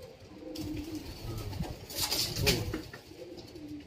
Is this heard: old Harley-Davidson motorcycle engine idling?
no